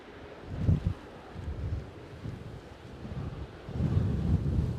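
Strong gusty wind of about 40 mph at Edinburgh Airport, buffeting the microphone in loud rumbling surges that rise and fall, with no clear voices.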